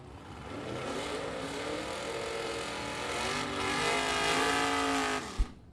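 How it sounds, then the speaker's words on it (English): A Chevrolet S10 and a Z28 Chevrolet Camaro drag race in bracket competition, engines roaring loud and steady with a rising rev across the run, close to the track, ending in a short sharp thump. "Schrader in the S10 right lane. 679 dial-in for Schrader. 615 dial-in for Danny Roth in the left-hand side. Z28 Chevrolet Camaro"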